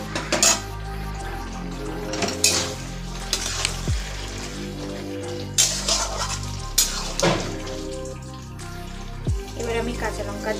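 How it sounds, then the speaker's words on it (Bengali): Taro leaves (kochu shak) tossed into a pan with spices and stirred, giving a steady sizzle with repeated scraping and clanking of a utensil against the pan, sharp knocks every second or two, and a voice talking over it. "এবার কচু শাকটা দিয়ে দেবো।"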